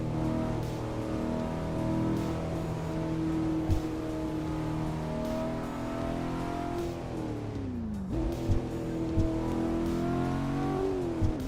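A Cadillac engine in a driving simulator game holds a steady, loud, harmonic drone that climbs and falls with revving, dips sharply near the end, then rises again, accompanied by occasional faint knocks.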